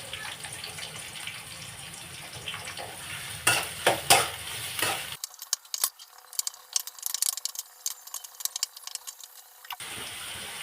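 Chopped onion added to a hot pan for chicken gravy, stirred and frying with clattering scrapes and sizzle, then a stretch of brighter crackling bursts before the steady sizzle returns; no one speaks.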